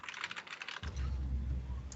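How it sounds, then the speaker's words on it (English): Rapid clicking keystrokes on a computer keyboard rattle for under a second, then give way to a dense low rumble that continues to the end. "He just keeps typing penis over and over again."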